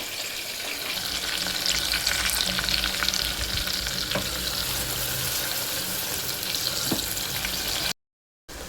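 Onion and masala sizzle steadily in a hot pan for an egg curry, a dense continuous frying hiss with faint stirring scrapes, close and loud, cut by a brief silence near the end.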